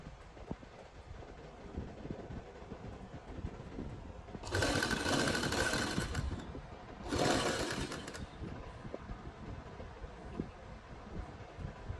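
A sewing machine stitching a Punjabi suit design runs in two bursts, a steady whirring rattle of about two seconds and then about one second, close and loud over a quiet room hiss.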